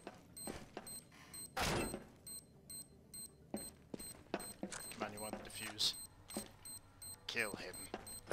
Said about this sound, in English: Bomb has been defused